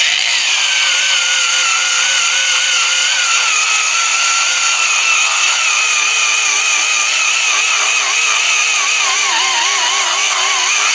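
A DRIVAK AG001 cordless angle grinder runs steadily under no heavy load, giving a loud, continuous high whine with slowly wavering pitch that holds for the whole stretch, with no voices.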